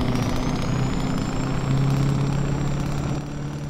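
A Mack truck engine from a heavy-haul trucking game mod on Mexican roads rumbles loud and steady with a droning engine brake, tones shifting slightly midway, close and continuous without talk.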